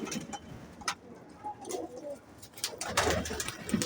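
Pigeons crowded on a loft net coo in low, rolling calls that repeat through the moment, near and moderately quiet, with scattered light taps and rustles around them.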